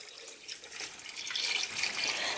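Water pours steadily into a cooking pot holding sugar, cinnamon, cloves and orange peel for a syrup, a close, continuous splashing stream that grows slightly fuller toward the end.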